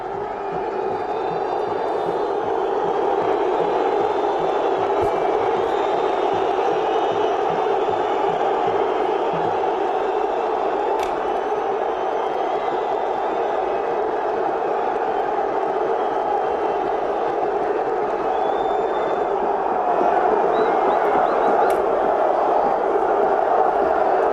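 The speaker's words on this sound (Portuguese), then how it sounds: "E a gente tem o momento das vaias aí no encerramento do jogo, né?" Football crowd in São Paulo boos at the end of a drawn match, a sustained low roar of massed voices filling the stadium steadily and continuously with only slight swells.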